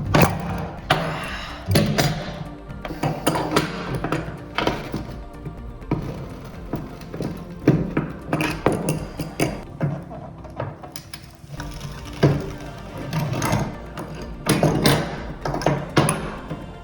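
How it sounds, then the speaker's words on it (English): Crescent wrench turning a bathtub drain flange, with repeated metallic taps, clunks and scraping knocks close by in irregular bursts across the working, loud and busy throughout. "I'm gonna stick it down in there like so, and grab my crescent wrench,"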